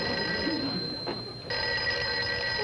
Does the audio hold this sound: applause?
no